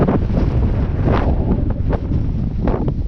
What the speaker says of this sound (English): It's crazy windy up here.